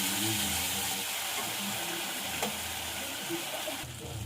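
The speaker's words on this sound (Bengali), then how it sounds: "এবার মশলাটা ভালো করে কষিয়ে নেব" Spice paste for a liver and potato dum sautéing in oil after tomatoes, a dense steady hiss and sizzle close by with faint stirring underneath, fairly quiet and unbroken.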